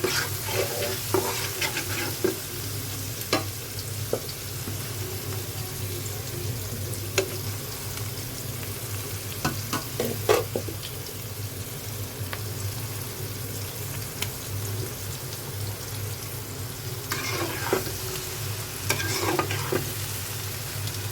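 Fried rice frying in a pan with two kinds of capsicum, stirred steadily with a continuous sizzle and scattered scrapes and clinks of the utensil over about twenty seconds. No one speaks.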